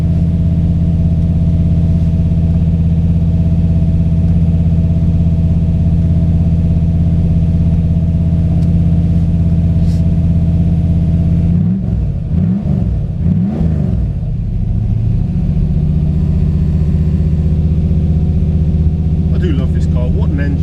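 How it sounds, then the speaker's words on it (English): A 4-litre TVR V8 engine from a 1989 400 SE, in a 1984 TVR Wild Wedge, idles with a deep, steady rumble, then revs briefly in several quick blips before settling back to a loud idle. "This is the 4-litre NCK TVR engine"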